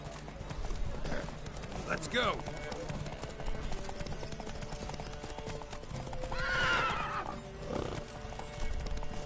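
In the video game The Witcher 3, hooves clatter at a gallop during a horse race as horses whinny sharply twice, with someone shouting briefly over the rushing, busy mix.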